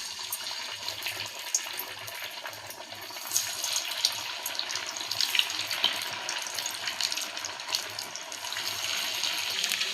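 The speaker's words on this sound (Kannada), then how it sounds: "ಈಗ ಎಣ್ಣೆ ಕಾದೈತಿ, ಹಾಕೊಂಬರ್ರಿ." Puffed rice vadas fry in hot oil, a steady, close, hissing sizzle with crackling spikes throughout, swelling a little at moments as pieces cook.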